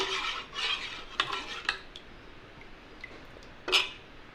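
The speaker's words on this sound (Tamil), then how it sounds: "நான் மத்தில் கடைஞ்சி எடுத்துக்கிறேன்" Cooked urad dal churned by hand with a wooden churner in a pot, soft irregular swishing and scraping strokes with a few sharper knocks, close and fairly quiet.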